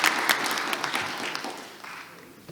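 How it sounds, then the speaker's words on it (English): A room of people claps steadily, a dense patter of hands that gradually thins and softens toward the end. "Let's give them all a round of applause."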